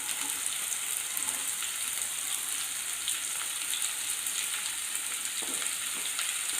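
Onions frying in a pan for Kerala-style beef fry, giving a steady, even sizzle with faint crackles throughout and no talking.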